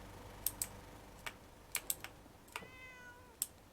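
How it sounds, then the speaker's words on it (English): A cat meows in the Fallout 4 video game, a short drawn-out call heard faintly against quiet clicking keyboard taps scattered through the moment. "Did I just hear a cat?"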